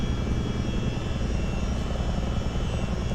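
A Boeing CH-47D Chinook twin-rotor helicopter flies in a video game, a dense, constant, loud rotor and turbine roar with no break, no talking.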